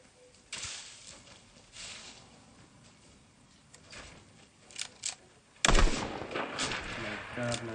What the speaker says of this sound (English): From where did I got shot from?